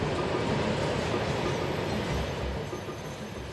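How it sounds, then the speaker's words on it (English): A very long freight train of steel-laden wagons rattles and roars continuously up close, a dense, unbroken clatter filling the clip with no speech. "They say this is the longest train in the world."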